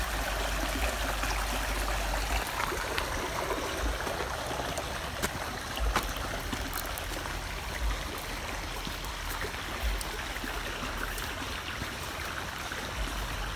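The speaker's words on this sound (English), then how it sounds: "The sound of the brook is very relaxing." Steady rushing and trickling of shallow water flowing over rocks at a shallow waterfall on a brook near Brushy Creek Lake, Cedar Park, Texas, a continuous broadband wash with no voices.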